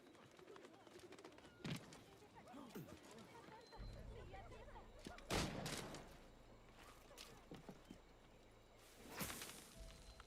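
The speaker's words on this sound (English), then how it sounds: "Gunshots." Several sharp gunshot cracks ring out at irregular intervals in a video game, distant and echoing, amid game ambience with birds and background noise.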